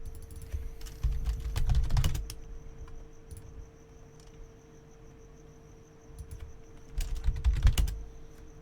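Two short bursts of computer keyboard typing, close and fairly loud, separated by a quiet stretch with a faint steady insect-like background tone and no voices.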